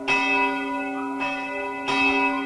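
A church bell recording played from CD through loudspeakers in a modern church bell tower, three ringing strikes with long sustained tones that overlap and decay.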